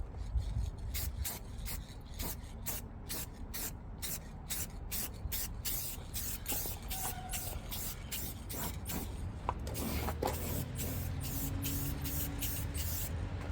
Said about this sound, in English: Seems like it's spraying okay.